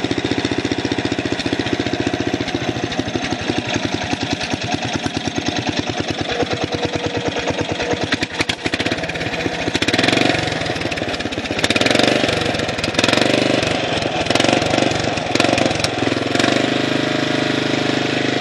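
A lawn mower engine, a project machine rather than a regular mower, runs loud and close with a rapid, choppy chatter. Its pitch and intensity surge and shift in the second half as it keeps running.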